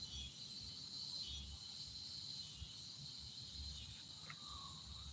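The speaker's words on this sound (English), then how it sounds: "Them cicadas is back there in that area." Cicadas in a park beside a creek, a faint, steady high-pitched buzzing drone that holds throughout, distant and soft, with no talking.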